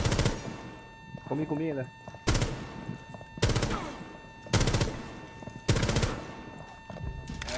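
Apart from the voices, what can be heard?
gunfire in the video game Rainbow Six Siege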